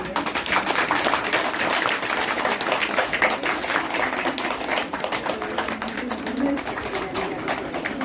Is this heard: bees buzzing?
no